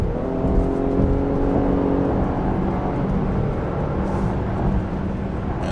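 A Chevrolet Blazer RS engine revs up while pulling away from a traffic light to gain speed, a steady rising drone with road and tire noise heard from inside the cabin.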